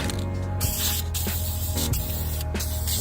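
Aerosol spray paint coating a metal mixing bowl and a tiny flower pot: a loud, close, continuous hiss with a few short breaks and a mechanical rattle underneath, alone without talking.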